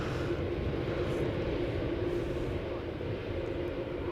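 A jet departs from Schiphol Airport in the morning, its steady broadband engine roar filling the scene continuously at moderate distance with no breaks.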